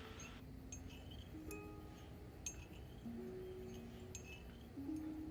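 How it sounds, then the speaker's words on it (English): A teaspoon stirring in a teacup in a film scene, a faint, deliberate, rhythmic clinking of metal against china under a low steady background hum. "stirring becomes much more deliberate and rhythmic."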